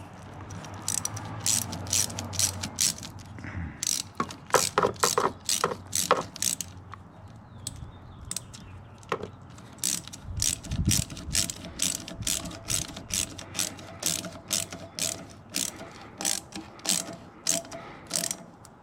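A hand ratchet tightens down a catch can on a 2024 Ford Mustang GT, with quick, loud, close clicking strokes repeating steadily in bursts throughout, with no talking.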